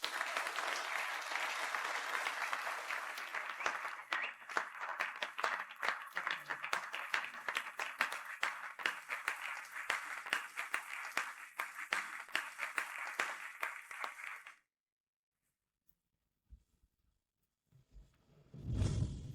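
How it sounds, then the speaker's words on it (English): A crowd applauds warmly to welcome newlyweds at a wedding, with dense, steady clapping for about fifteen seconds before it cuts off abruptly into near silence. "Let's give our warmest applause and welcome the newlyweds"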